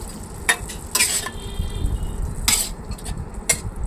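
Pointed gourd and poppy seed curry cooking in a pan, with a steady low bubbling sizzle throughout and a few sharp utensil scrapes and taps against the pan.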